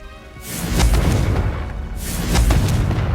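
Two big Confringo blasting-spell explosions in Hogwarts Legacy, each a loud booming burst with a whooshing tail and rumbling low end, about a second and a half apart with no talking.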